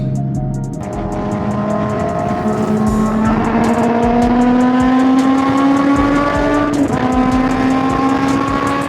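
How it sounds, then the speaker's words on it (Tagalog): A Ferrari revs hard and accelerates, its loud engine note climbing steadily through the gears with a quick shift near the seventh second, close and dominant with no voices. "Napabombay ang Ferrari."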